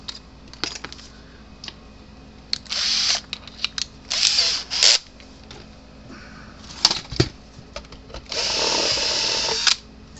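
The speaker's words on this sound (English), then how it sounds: "What I'm going to do is I'm going to drill a hole" A power drill bores a hole in the plastic case of a 36-year-old Gallagher BEV3/M800 electric fence energizer, running in several close, loud bursts of varying length with pauses between.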